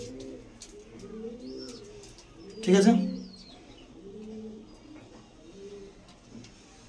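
Punjabi pigeons for sale give repeated low, rolling coos near the microphone, with a brief loud burst midway. Someone speaks briefly over the birds.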